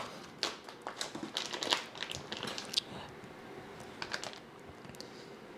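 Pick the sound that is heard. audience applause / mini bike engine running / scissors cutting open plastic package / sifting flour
scissors cutting open plastic package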